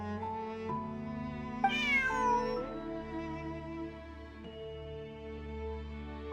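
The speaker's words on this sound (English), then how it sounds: "Bonnie is Pierre's cat." Cat meowing in the Genshin Impact video game, a clear, close meow that rises and falls once in the middle. It sits over steady tonal background music with no talking.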